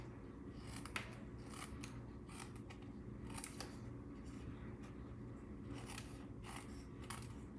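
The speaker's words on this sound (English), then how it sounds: "Snip as close as you can to the edge of your panel." Scissors snip a paper card panel close to its edge in a run of crisp, close cuts, repeating irregularly with short pauses and no talking.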